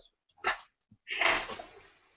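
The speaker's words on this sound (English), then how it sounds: "Somebody sneezing." Someone outside sneezes, with a short sharp breathy burst, a pause, then a longer forceful noisy sneeze trailing off, moderately faint in an otherwise quiet space.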